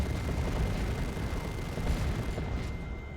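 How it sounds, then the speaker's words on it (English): Heavy, continuous Assault Cannon barrage from Dreadnoughts in Dawn of War 2: Retribution, a dense roar of rapid booming fire with low rumble, loud and sustained with no talk. "Very powerful anti-infantry weapon with that awesome barrage that you just saw there."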